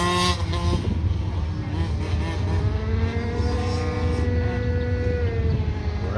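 Kids' dirt bikes race in a heat at a Lodi, California track, with several whining engines rising and falling in pitch as they pass, loud and continuous, overlapping one another.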